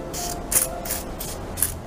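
Evian facial mist water spray is spritzed onto a face in several short hissing bursts, close to the microphone and evenly spaced, with no voice.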